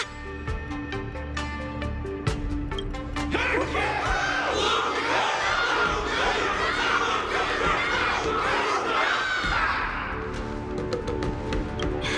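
Loud crowd in Honkai: Star Rail cheering for Luca, a dense wall of shouting and whoops rising after a brief lead-in, sustained, then easing slightly near the close.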